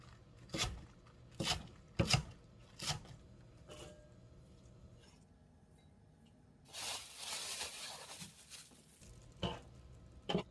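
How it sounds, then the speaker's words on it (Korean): A knife chops green onions on a board in a series of sharp, close, evenly spaced cuts, followed by a longer stretch of softer rustling and scraping. "쪽파 몇 개 썰어서 넣어줄게요"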